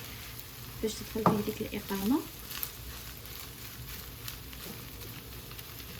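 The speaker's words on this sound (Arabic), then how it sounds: "صافي وغادي نحرك هادشي مزيان، نخليه غير يسخن" Shrimp filling with rice, leek and dried coriander is stirred and warmed in a pan, a soft sizzle with a few scraping stirs beneath a woman's speech near the start, then quieter frying.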